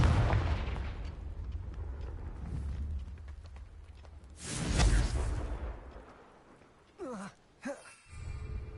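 Confringo fire spell in Hogwarts Legacy erupts as a loud whooshing blast with a booming low burst, followed by brief crackling bursts, all close and forceful against a rumbling game backdrop.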